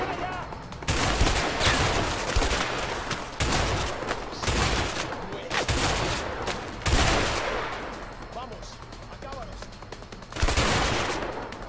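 Rifle gunfire in the video game A Way Out comes as repeated loud bursts and volleys, separated by short gaps, over a busy background of game noise.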